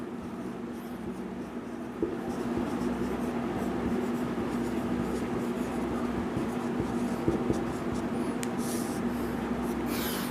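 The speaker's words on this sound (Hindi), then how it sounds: "यहाँ पे लिख देता हूँ, मैं लिखना भूल गया।" Pen writing by hand on paper or board during an electrical engineering class, a steady soft scratching that runs for about ten seconds over a constant hum, with no clear talk.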